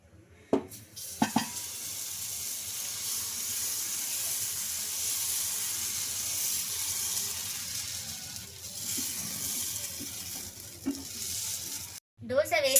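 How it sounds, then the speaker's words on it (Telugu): A millet and urad dal dosa frying on a hot pan over medium-low flame, giving a steady loud sizzle throughout with a few scraping and clinking pan sounds and no talking. "దోశ వేసిన తర్వాత మీడియం టు లో ఫ్లేమ్లో కాల్చుకోవాలి"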